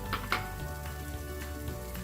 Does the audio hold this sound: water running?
no